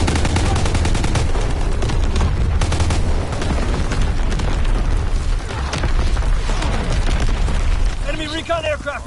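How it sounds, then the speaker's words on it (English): Enemy artillery strike in Call of Duty WWII, with dense, loud booming blasts and rattling gunfire filling the whole stretch, explosions overlapping in rapid succession under game voices. "Incoming enemy artillery."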